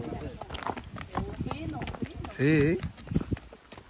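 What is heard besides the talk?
horse hooves clip-clopping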